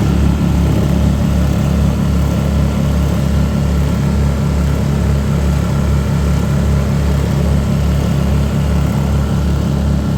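A boat's outboard motor runs steadily on the river between Astoria and Cathlamet, a loud, continuous close-up drone with no change in pitch and no voices.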